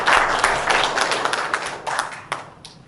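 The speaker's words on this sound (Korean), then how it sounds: "다시 한번 박수 크게 부탁드리겠습니다" A crowd at an indoor meeting about building a new memorial hall applauds, with dense, lively clapping at the start that thins and fades over a few seconds.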